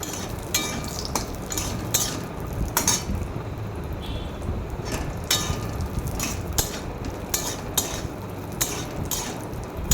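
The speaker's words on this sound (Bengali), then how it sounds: "কাজুগুলো রঙটা চেঞ্জ হচ্ছে, একটু লাল লাল যখন হয়ে যাবে মোটামুটি সবকটার কাজুগুলো, তারপরেই নামিয়ে নেব ভালো করে নাড়াচাড়া করে" Cashews fry in ghee in a pan, a steady sizzle under repeated scrapes and clinks of a utensil stirring them at close range, with no talking.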